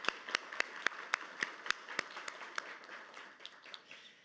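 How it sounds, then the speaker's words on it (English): Sparse, fairly quiet clapping from a youth climate summit audience, with sharp individual claps standing out at first before thinning into softer scattered applause. "let's give a round of applause again."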